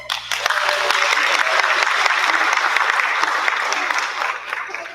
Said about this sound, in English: I want to quickly have everyone give a round of applause to Alex Rodriguez,